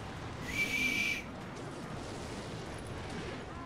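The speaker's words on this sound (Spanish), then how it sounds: "¿Has visto el sonido que hace el cohete? Como que se pone así a silbar." A brief high-pitched whistling hiss of a rocket in the video game Clash Royale rises for about a second, then fades into a low, steady background rumble.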